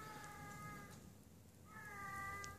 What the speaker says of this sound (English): It's a stray cat that's talking over here.